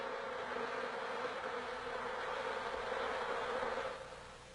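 A dense, steady buzz of honeybees fanning their wings inside the hive, close and continuous, easing off slightly toward the end.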